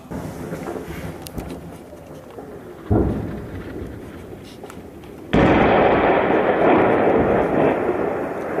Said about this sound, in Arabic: قصف منزل صباح الباكر أحياء حمص القديمي القذائف الهاوين